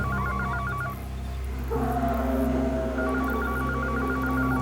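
In a Hindi horror drama scene, a phone trills in short electronic ringing bursts at the start and again near the end, with a low steady hum and background ambience filling the gap.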